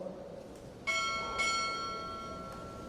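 Two strikes of a ship's bell during a naval chief petty officer pinning ceremony, sharp metallic clangs about half a second apart, each leaving a sustained ringing tail in a quiet hall.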